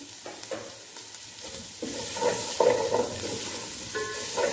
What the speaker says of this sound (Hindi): थोड़ा सा इसको सौते करेंगे, क्योंकि सब्जियां तो बहुत सॉफ्ट होती हैं।